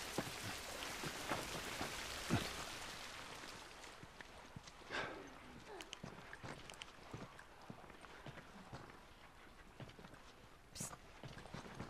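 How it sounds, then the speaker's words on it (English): Rain falls steadily in The Last of Us video game, a soft, close patter with scattered heavier drips and occasional thuds, heard alone. "At least we're out of the rain."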